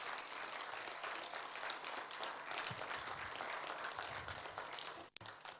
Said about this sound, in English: Please, can we free our hands and give him the warmest round of applause as he walks back to his seat.